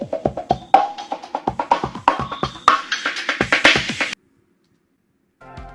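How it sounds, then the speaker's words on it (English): A short drum loop from Splice with an automated wah sweep, quick close hits whose tone rises brightly as the filter opens, stopping suddenly into silence before a faint new tone enters. "This song also starts off with this little drum loop that I got on Splice"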